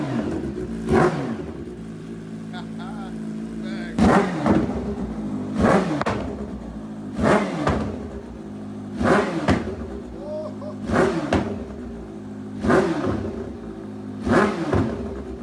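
A Stage 2 short-wheelbase Kawasaki Ninja H2 motorcycle revs repeatedly, with about eight sharp throttle blips rising and falling at a steady pace over an idling engine, loud and close.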